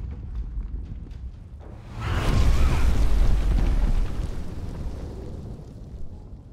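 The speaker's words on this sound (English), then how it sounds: "This could also cause some explosions here." A heavy explosion in Divinity: Original Sin II erupts about two seconds in as a deep, loud rumbling boom with crackling debris, then fades slowly over a few seconds against faint background game sound.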